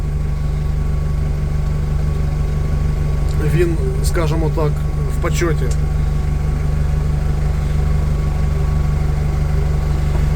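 Toyota 02-8FDJF35 diesel forklift from 2019, with a 1DZ engine, idling in a steady low, even drone throughout, while someone talks briefly over it near the middle.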